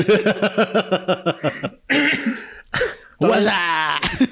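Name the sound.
cough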